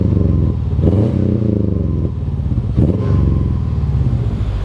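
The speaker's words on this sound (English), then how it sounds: "I do like the sound of the exhaust on at times." Exhaust of a 2019 Subaru Crosstrek Premium with its boxer four-cylinder engine: a loud, close, throaty burble with a low rumble that swells in a couple of revving surges before settling back to a steady drone.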